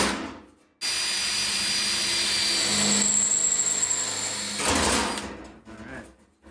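A welder making plug welds on the floor pan of a 1961 VW Beetle: a loud, sustained buzzing crackle that starts abruptly, runs for several seconds, pauses briefly, then bursts again before stopping.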